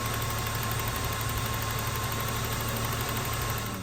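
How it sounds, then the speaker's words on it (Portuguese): A BMW engine idles steadily with a fine, continuous ticking from its hydraulic valve lifters, a constant close-up mechanical hum with no speech. "Elas fazem um barulhinho característico desse motor aqui. É uma costurinha assim."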